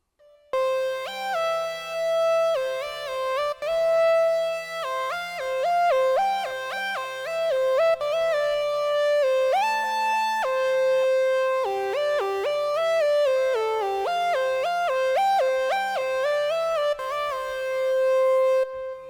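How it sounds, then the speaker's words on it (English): A synthesizer solo plays a busy, bright melodic line with quick note changes and sustained tones, loud and steady throughout, with no voices. "So now the solo is going to sound a bit like this."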